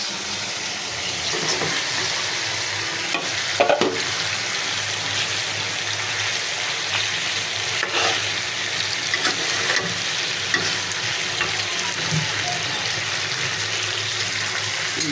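Rohu fish with spices frying in a pan for a sour-spicy mango fish curry, giving a steady, broad sizzle throughout with a few brief louder crackles and pops, no talking.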